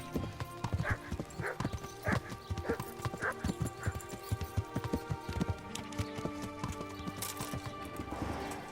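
Horse in Kingdom Come: Deliverance galloping in a steady clip-clop rhythm of loud, close hoofbeats, with a brief whinny and other game sounds in the background.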